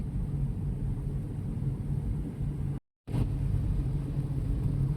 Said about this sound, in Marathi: स्पीड बघा त्या गाडीचा.